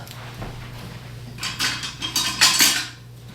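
Metal cutlery rattles and clinks in a kitchen drawer as a spoon is fetched, a few close, bright bursts of clatter over a quiet background hum.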